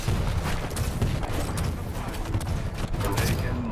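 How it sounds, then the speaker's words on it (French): Rapid weapons fire in the arena shooter Quake Champions, dense repeated blasts and booming impacts in a continuous barrage, with a voice talking faintly underneath. "Je teste un peu les armes hein"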